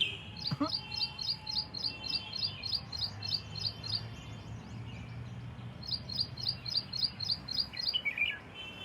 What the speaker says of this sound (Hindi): कितनी सुरीली आवाज में दूसरी वाली चिड़िया बोल रही है